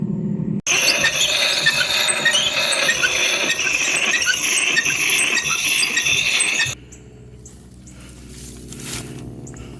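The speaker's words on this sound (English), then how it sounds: "Let's sharpen an axe." Steady rasping of a file or sharpener worked along an axe blade on a farm, loud and continuous for several seconds before cutting off abruptly to quieter background.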